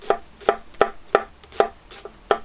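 A long sushi knife julienning an onion on a board, with seven crisp, evenly spaced chops about every third of a second, close and clear with no talking.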